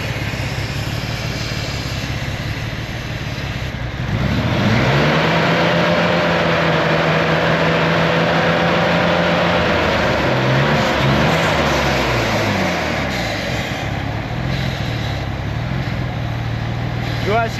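A car engine under tuning runs steadily and loud throughout, settling into a sustained idle-like drone after a few seconds with a couple of rev changes later, while people talk over it.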